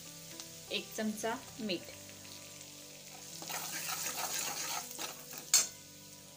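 Curry leaves and coriander stirred into a hot tempering in a pan for aluwadi, with sizzling and frying crackle and a spoon scraping in bursts, a brief voice near the start and a sharp clink near the end.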